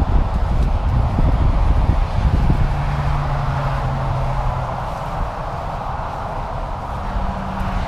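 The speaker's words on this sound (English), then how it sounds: "Sorry about the noise, we're right on the side of a highway." Dense, steady roar of highway traffic right beside the road, loud and broadband with wind buffeting the microphone and a low engine hum passing partway through.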